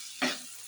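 Cumin seeds hit hot oil for a hilsa fish curry, giving one brief, soft sizzling burst that fades quickly into a faint steady hiss.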